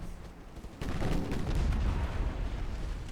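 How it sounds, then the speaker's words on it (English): Torpedoes launching from a warship in a naval strategy game, a muffled low rumble that jumps into a sustained loud, rolling burst of firing with crackling detail, no voice heard. "Right, you can fire your one torpedo."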